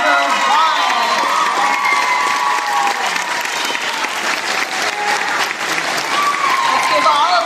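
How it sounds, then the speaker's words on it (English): A school audience at a 7th grade orchestra and band Halloween concert claps loudly and cheers, with whoops and children's shouts over sustained applause and voices in the crowd. "Let's give all of our pumpkin contestees another round of applause."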